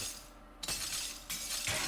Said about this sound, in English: I love that little feature of the glass breaking.